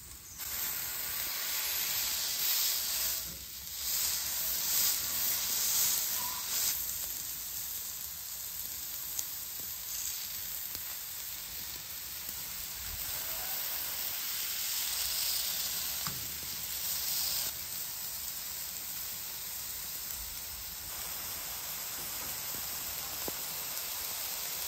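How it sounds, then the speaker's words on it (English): Sausage smashed flat on a hot griddle at medium heat, around 400 to 425 degrees, giving a loud, steady sizzle and hiss that swells at the start and then settles into a continuous frying crackle. "Now we're gonna smash the sausage."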